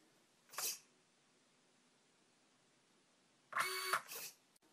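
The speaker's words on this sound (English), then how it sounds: "the gyro has flashed, the motors have spun, and that is the initial calibration done" Motors on a RadioLink Byme-A model plane spin up during initial calibration: a short whirring burst, a quiet pause, then a longer two-part whir near the end, close and fairly loud.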